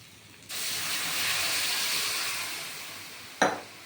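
Loud steamy hiss as water is poured into a hot pan of mushroom curry, rising suddenly and holding steady for about three seconds before easing, followed by a sharp clatter near the end.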